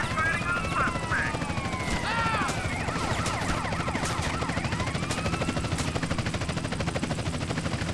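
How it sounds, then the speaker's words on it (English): An attack helicopter in a shooter video game approaches with rapid rotor thumping amid bursts of gunfire, loud and dense, with game sound effects and a player's voice talking over it. "Here comes the heli."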